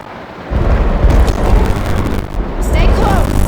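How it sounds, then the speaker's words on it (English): Heavy rain pours steadily in the Halo video game, a dense broadband wash that swells louder after the first half second and keeps up with rumbling low thunder-like booms underneath, no speech. "If this rain keeps up, the boat can come to us."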